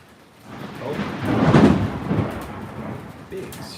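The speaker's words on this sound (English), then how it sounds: "Big storm here at my house." Thunder rolls through a heavy storm at a house, a deep rumble swelling to a loud peak midway and fading, with rain hissing steadily underneath throughout.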